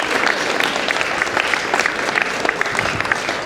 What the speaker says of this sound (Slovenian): Aplavz še za njo.